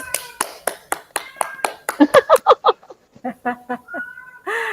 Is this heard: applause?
yes